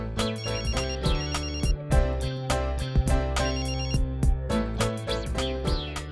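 A phone rings in a Tamil film scene, a loud repeating electronic ringtone melody playing steadily with no talk over it.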